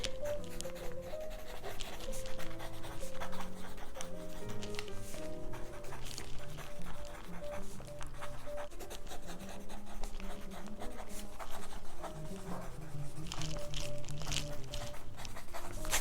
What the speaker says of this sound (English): So I gotta write that down while I'm thinking about it.